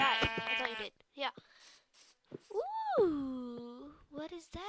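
A Minecraft sheep gives a bleat or two at close range, while game sounds and a rising, falling voice-like call fill the rest of the moment.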